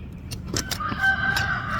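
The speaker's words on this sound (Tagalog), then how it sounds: "Sabi ng manok." A chicken in a garden clucks a few times in short bursts, fairly near, with a thin squeak and rustling in the background.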